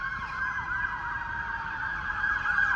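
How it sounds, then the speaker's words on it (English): Fire engine sirens wailing continuously as they pass, with sweeping tones rising and falling over low traffic rumble, fairly loud and with no talking. "there go the fire engines"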